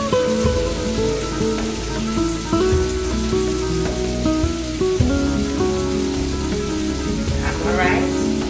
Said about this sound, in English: So now I'm going to add the rice.